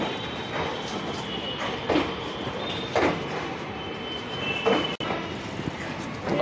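The Shramjeevi Superfast Express pulls away from platform 1 at Moradabad Junction with a steady rumble and rhythmic wheel clatter, with a sharp clunk near the end. Quiet talk is faintly audible underneath.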